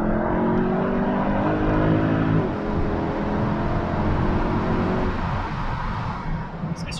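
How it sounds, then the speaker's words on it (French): Mercedes C63 AMG Pack Performance sports car, its engine pulling hard with a rising, layered roar. The note steps up through the revs and then fades into a lighter rumble near the end. "Ouais, puis tu as un son agréable quand même, tu sens que tu es dans une voiture de sport tout de suite."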